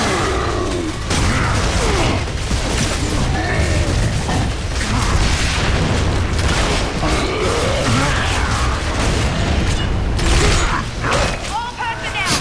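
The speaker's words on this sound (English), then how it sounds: "Taking down the guy with the boom shot" Boomshot grenade launcher fired in Gears of War 3, with loud, dense booming blasts and clanking mechanical noise rolling on steadily for about twelve seconds amid continuous combat din.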